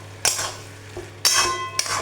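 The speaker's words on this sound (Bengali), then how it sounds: "এগুলোকে খুব ভালো করে মিশিয়ে নেব" A spoon scrapes and knocks against a pan while dry chili chicken is mixed with sauce. Three distinct clattering strokes come close up with short pauses between, and nobody speaks.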